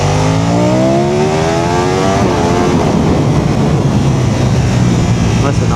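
A Ducati Panigale V4 S motorcycle accelerates hard and close, its engine note climbing steadily through the revs, then dropping on a shift into a loud, rough roar with wind noise.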